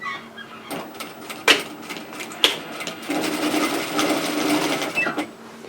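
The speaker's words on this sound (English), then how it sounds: "So go ahead and sew that seam." A sewing machine stitches a seam on an unlined reusable shopping tote, running in steady bursts with short pauses and a couple of sharp clicks, close and clear.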